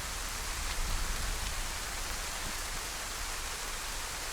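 Steady rain falls in the survival game DayZ, a constant even hiss of drops on surfaces with no break, moderately faint and heard alone throughout.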